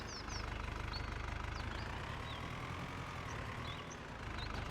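Tractor engine idling low and steady while reversing to hitch a seed drill in Farming Simulator 25, a soft rumbling drone with faint bird chirps above it and no talking.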